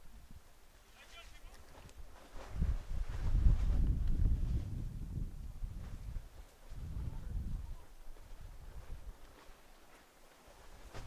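Low rumbling wind buffets the microphone in gusts at an outdoor youth soccer match at Dalhousie Wickwire Field, swelling loudly in the middle, while faint voices sit underneath.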